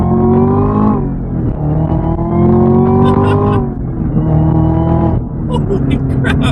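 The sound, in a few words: supercharged 2018 Chevrolet Camaro ZL1 accelerating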